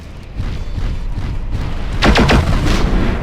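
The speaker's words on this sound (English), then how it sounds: "Yeah, direct hit with a missile." Missile strikes exploding against an enemy mech in Mechwarrior 4: Mercenaries, loud booms over constant rumbling battle noise, with a sharper burst of crackling impacts around two seconds in.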